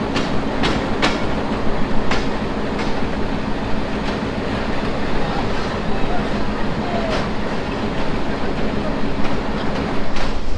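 The Nakshikantha commuter train from Khulna to Dhaka, heard from beside its locomotive near Daulatpur station, rolls along with rhythmic clickety-clack of wheels over rail joints under a constant rumbling drone.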